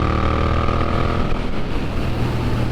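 Yamaha MT-07 motorcycle with an upgraded aftermarket exhaust, riding at steady low speed under 45, a continuous loud engine drone with wind rush throughout, no talking.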